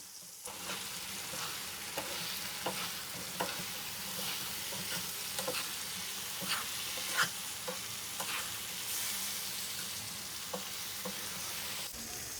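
Fried potato fingers are stirred into a sizzling, spicy karahi masala, the frying quiet but steady. A spoon scrapes and taps the pan in an irregular rhythm, with no talking.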